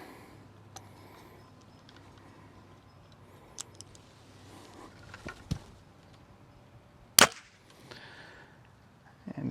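Arrow loosed from a Hoyt RX-4 Ultra bow punching through paper during paper tuning, one loud sharp crack standing out over a quiet room, with a few fainter clicks and knocks around it.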